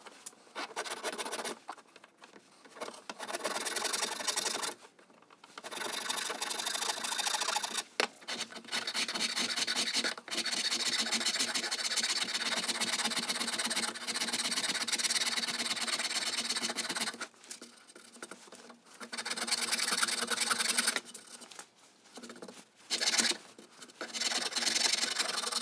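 A rasp with hacksaw-blade teeth set in a diamond pattern shapes a wooden workpiece, giving close, gritty back-and-forth rubbing strokes in long runs broken by brief pauses.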